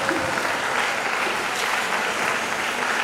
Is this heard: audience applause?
yes